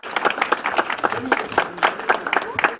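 Hospital staff applaud recovered COVID-19 patients, including six active-duty soldiers, as they are discharged; brisk, uneven clapping from a small group, fairly close, with some voices underneath.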